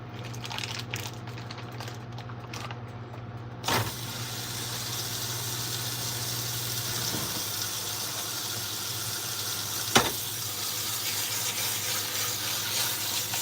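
A steak hits a hot pan and a steady, broad sizzle erupts, continuing evenly at close range with a couple of sharp clanks of the pan and utensils, with no talking.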